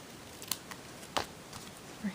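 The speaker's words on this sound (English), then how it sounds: "And then we'll take some scissors" Scissors trimming excess paper from a handmade Christmas card: a few quick, crisp snips spaced irregularly, close and fairly quiet over a light room hiss.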